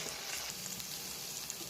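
Shrimp frying in a pan with ginger, garlic and tomato paste over tempered fenugreek and mustard seeds, giving a steady, dense sizzle that holds at an even, moderate level throughout with no talking.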